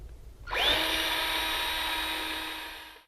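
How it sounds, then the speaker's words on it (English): A power drill drilling a pilot hole in a door starts with a rising whine and runs steadily for a few seconds, close and fairly loud, before cutting off. "Now I'm just going to drill a pilot hole"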